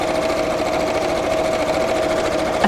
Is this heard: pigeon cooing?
no